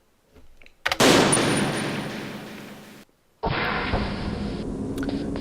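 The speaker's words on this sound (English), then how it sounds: "I don't know what to do about the guy shooting you, though." Enemy gunfire in the Metal Gear Solid video game: a loud sustained burst of shots lasting about two seconds, a brief pause, then another steady burst continuing to the end.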